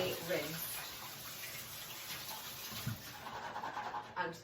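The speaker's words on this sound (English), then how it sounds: "rinse it in lots and lots of cold water, making sure that every single chickpea is fully rinsed" Cold tap water runs steadily over drained chickpeas in a kitchen sink during hummus preparation, a continuous close splashing stream with brief stirring sounds.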